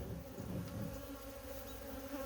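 Carniolan honey bees swarm around a newly installed hive, a dense, continuous buzzing drone close by and fairly faint, with no voices over it.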